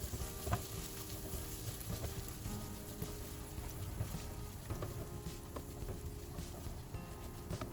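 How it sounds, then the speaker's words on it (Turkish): Steady sizzling and crackling of carrots and onions sautéing in a pan, continuous and close, with faint clinks of stirring and no talking. "Havucumuzu da soğanımızla beraber yumuşayıncaya kadar kavuruyoruz."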